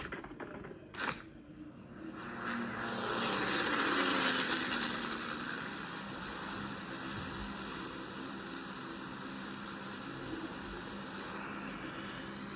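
In PUBG Mobile, an airplane engine roars as a sustained broadband drone with a swelling whoosh that builds and then holds steady, preceded by a brief click, with no talk.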